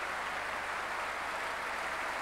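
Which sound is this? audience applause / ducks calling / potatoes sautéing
audience applause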